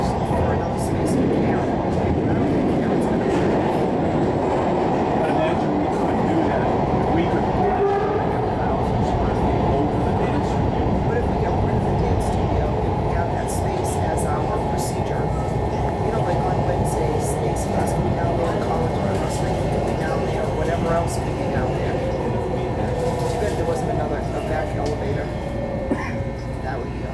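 A MARTA Gold Line metro train rumbles steadily along with a dense, continuous roar, faint clicks and squeals above it, while people talk throughout.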